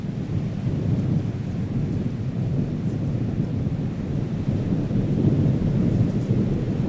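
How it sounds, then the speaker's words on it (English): A storm draws near over a cable crossing in Bolivia, with a steady heavy roar of wind and rain and deep thunder rumbling underneath throughout, no voices. "Suddenly, a storm draws near."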